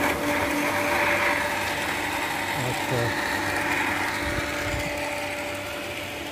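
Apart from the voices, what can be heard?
electric motor water pump running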